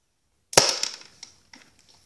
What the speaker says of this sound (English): modified a pen, a Bic pen, Pro pen, to shoot out one of these projectiles just like the G2 Pilot pen does